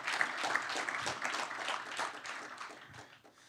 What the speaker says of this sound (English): So let's get a round of applause for these faculties.